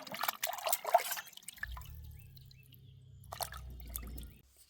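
Fish soaked in water to remove salt are washed: water splashes and drips briefly at the start, followed by a low steady rumble and faint trickling in the background.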